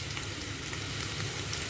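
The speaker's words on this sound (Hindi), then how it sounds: "आलू को मैं तेज़ सेक पर ही कर रही हूँ" Potatoes frying over high heat in a pan for an aloo beans curry, a steady close sizzle and crackle that holds even throughout with no voices.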